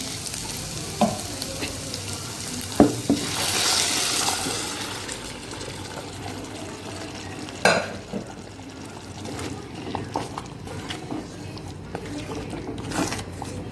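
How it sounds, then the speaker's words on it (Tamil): Cooked chicken tipped into a pan of sizzling chicken gravy masala, with steady frying hiss, stirring scrapes and a couple of sharp clatters as the pieces and liquid go in, fairly close. "இப்போ வேக வச்சு சிக்கன் எடுத்து கொட்டிடலாம்."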